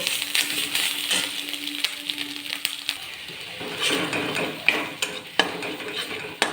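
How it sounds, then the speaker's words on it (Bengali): A paste of ginger, garlic and green chilli is sautéed in oil in a pan, with scraping stirs, light metallic clinks of the spoon and a soft sizzle, close and fairly quiet. "দিয়ে ভালো করে তেলের সঙ্গে কষিয়ে নেব।"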